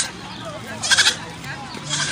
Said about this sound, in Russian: А вот новый козленок